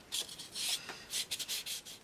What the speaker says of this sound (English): just getting my little buffing tool, I'm just going to go around the edges just to smooth out any of those notches